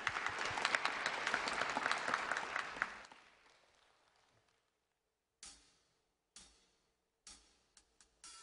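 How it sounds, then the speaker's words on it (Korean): Audience applause at a televised song contest, a loud sustained burst of clapping for about three seconds that fades out, followed by a few short sharp ticking sounds after a pause. "큰 박수 부탁드립니다."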